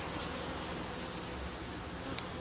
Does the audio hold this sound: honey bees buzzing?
yes